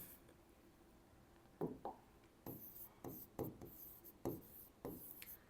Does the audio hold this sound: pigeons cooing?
no